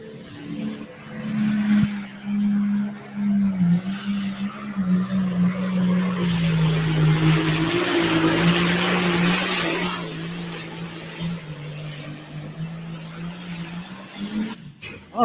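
Green Mule John Deere pulling tractor making a run at a Windsor, Colorado truck and tractor pull, its engine holding a loud, steady roar that swells in the middle with tire scrabble, then eases off near the end.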